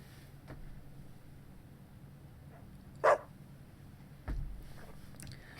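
A dog in the video game Deadly Premonition 2 gives a single short bark at mid-distance, followed by a dull thump, over a quiet hum of game ambience.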